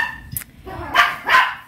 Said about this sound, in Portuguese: O Pete fica doidinho quando vê outro cachorro na rua.